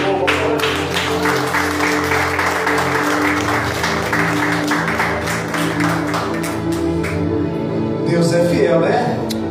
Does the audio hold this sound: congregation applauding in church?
yes